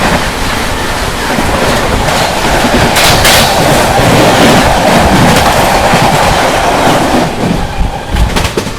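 The 14164 Meerut City–Subedarganj Sangam Express passes close by, a loud, sustained rush of wheels and wagons with a steady rumble and clatter that stays strong throughout and eases slightly near the end.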